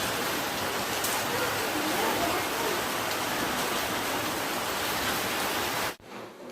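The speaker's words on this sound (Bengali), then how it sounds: "এখনো বৃষ্টি চলছে।" Rain falls in a constant, even hiss that stays loud and unbroken before cutting off abruptly near the end.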